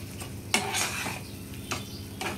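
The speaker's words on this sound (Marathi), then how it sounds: "वाटण टाकल्यावर आपण 2 ते 3 मिनिटं मसाला छान त्याच्यामध्ये तेलामध्ये परतून घ्यायचा आहे।" Ground masala paste for a Marathi-style prawn curry sautéing in hot oil, with a continuous sizzle broken by several sharp spatula scrapes and knocks against the pan, close and fairly loud.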